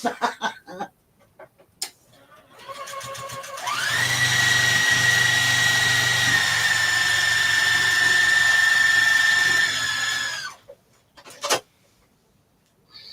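A sewing machine runs in one steady, continuous burst of several seconds while stitching a large reusable tote bag. It is fairly loud and close, with quieter handling noises before and after.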